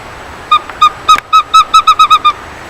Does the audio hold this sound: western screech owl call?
yes